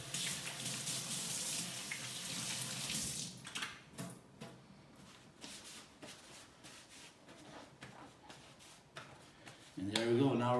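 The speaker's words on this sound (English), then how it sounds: "Always wash your hands." Hand washing under a running kitchen tap, water streaming steadily into the sink for several seconds before fading into quieter splashes and handling sounds, with a voice speaking over it.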